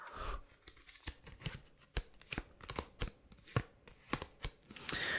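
Small Lego trading cards being handled close up, with a string of crisp card snaps, rustles and shuffling clicks in an irregular rhythm, quiet and with no talking.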